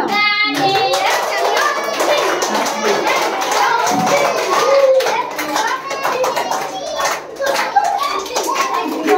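Quick hand clapping at a children's birthday celebration, mixed in with children's chatter and busy voices nearby, with a steady patter of claps running through most of the stretch.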